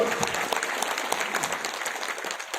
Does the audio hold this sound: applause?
yes